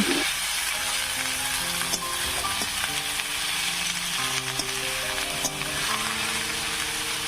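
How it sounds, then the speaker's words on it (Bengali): Radish greens (mula shak) fry and sizzle in a pan, a steady close hiss with soft stirring scrapes and light clinks throughout. "এদিকে শাক রান্না রাখছিলাম"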